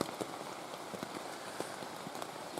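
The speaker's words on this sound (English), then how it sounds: "It's been raining like non-stop." Steady rain patters on a surface on the Appalachian Trail in Virginia, an even hiss of drops with small irregular taps, close and continuous.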